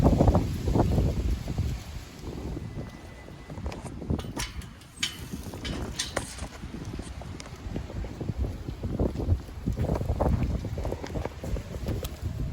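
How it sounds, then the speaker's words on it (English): Strong gusting wind roars and buffets the microphone, rising and falling in loud surges with rattling bursts and no voices. "tonight's been a very, extremely windy night"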